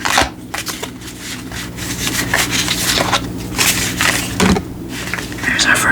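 Antique anatomy tarot cards being over-shuffled by hand, close crisp papery riffling and scraping in uneven bursts, with soft speech at moments.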